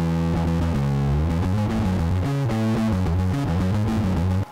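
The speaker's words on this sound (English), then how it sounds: "that's the sound of the big muff" Bass guitar distorted by a Big Muff pedal with a compressor, a thick fuzzy riff of moving low notes with dense buzzing overtones, continuous and loud, with no voices.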